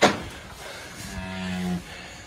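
A cow, a farm animal in a calving pen, gives a single low, drawn-out moo up close. It comes after a brief knock at the start, with quiet barn ambience around it.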